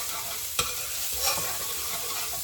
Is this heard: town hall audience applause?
no